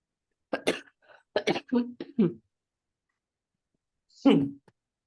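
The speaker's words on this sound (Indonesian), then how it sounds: "maaf ya, saya batuk" A quick run of sharp, close coughs, then a pause and one more harsh cough.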